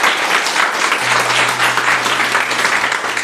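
Church congregation giving strong, steady applause, dense clapping filling the room evenly from start to finish with a low hum underneath.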